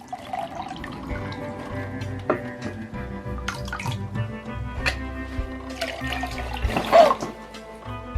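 Water sloshes and splashes as it is tipped out of a pizza tray into a sink, in irregular pours and drips building to a louder gush near the end, set against a quiet indoor background.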